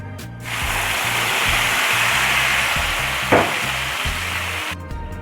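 Ground gooseberry paste poured into a hot mustard tempering, giving a loud, steady sizzle that rises sharply at the start and runs for several seconds before cutting off, with a low rhythmic hum underneath.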